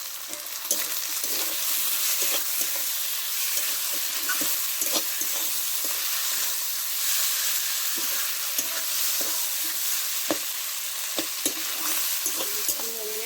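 Chicken curry ingredients with green chillies, tomato, garlic and turmeric fry in a pan with a continuous loud sizzle, broken by frequent sharp clicks and scrapes of a spatula stirring and pressing the mix.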